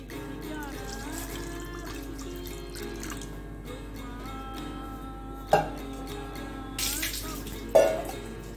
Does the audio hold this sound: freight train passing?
no